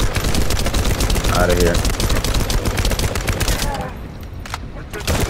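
A full magazine emptied in The First Descendant: rapid, loud automatic gunfire rattles nonstop for about four seconds, then cuts off into a few scattered shots, with a voice briefly speaking near the end.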